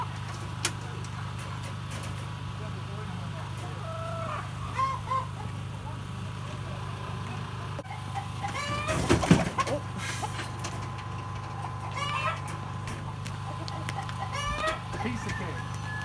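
Chickens and roosters, including two roosters being added to a flock, cluck steadily with a rooster crowing several times, fairly close, over a constant low hum and some light rustling.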